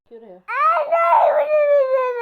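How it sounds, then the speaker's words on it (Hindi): A young girl cries and wails loudly and close up, a short whimper rising into a sustained sobbing cry, heard during a fearful moment at bath time. "तो आपने रोने की आवाज़ सुनी होगी, वो नहाने से बहुत घबराती है"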